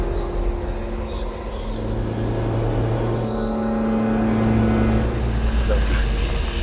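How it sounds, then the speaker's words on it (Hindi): In a Hindi horror cartoon, a car is driven away at high speed, its engine a continuous rumbling hum under narration. The hum holds steady and grows slightly louder over several seconds. "वो गाड़ी तेज स्पीड से भगाता है।"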